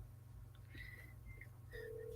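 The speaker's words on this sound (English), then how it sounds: "Let's see if somebody answers this phone." A telephone rings faintly during a call in a quiet room, a few soft electronic tones sounding over a low steady hum.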